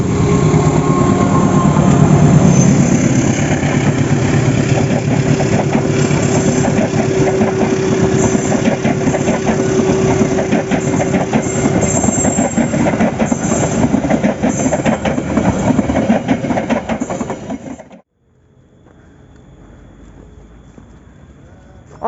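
A train on the Nagreg railway line rumbles past at close range, loud and steady with engine drone and clattering wagons, then cuts off abruptly and leaves quiet background.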